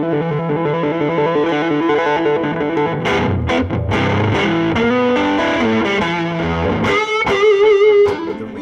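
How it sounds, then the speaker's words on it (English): Heavily overdriven electric guitar through a PRS J-MOD 100 tube amp plays sustained chords and riffs, thick and saturated, with a few choppy rhythmic stabs, loud and upfront with no voices. "When you click in the overdrive circuit, it's not the tube screamer sound that you get off of a pedal"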